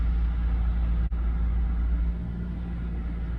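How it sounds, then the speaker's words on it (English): A car AC blower motor in a cheap clunker runs with a constant low whir and rumble, steady and close, with one brief dropout near the start. "Blower motor comes on."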